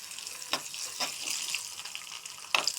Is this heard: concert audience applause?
no